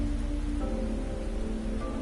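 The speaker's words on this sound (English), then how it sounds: "At some point, the rain began to fall once more." Steady, dense video-game rain hiss with a soft low rumble underneath, continuous and even throughout, with no voices.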